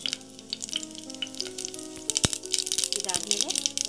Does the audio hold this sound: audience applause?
no